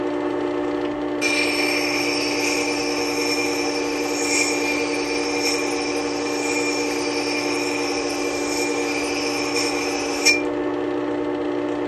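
A bent wood carving tool has its edge sharpened, evenly across the whole edge, producing a steady whirring grind that runs for about nine seconds at a constant level, close by, with no talk.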